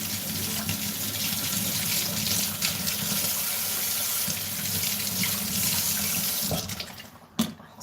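Cold tap water runs into a kitchen sink for rinsing, a loud steady splashing gush that cuts off near the end, leaving a brief clatter.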